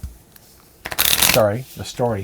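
A deck of story cards for the Wizard of Oz adventure book board game is shuffled in a brief, crisp riffling burst up close, with a person talking before and after.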